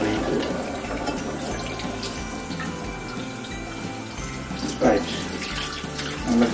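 Tap water runs steadily into a kitchen sink while soybeans are rinsed, a constant close splashing hiss with a few louder gushes near the end and no speech.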